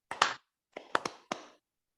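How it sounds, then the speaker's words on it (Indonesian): Hands clap in a group clap routine: a quick double clap, a pause, another double, then a single clap, crisp and close in an otherwise quiet room. "Tepuk 1, tepuk 2, tepuk 3."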